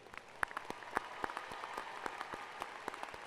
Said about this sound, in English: Please join me in a round of applause in recognition for their hard work and dedication.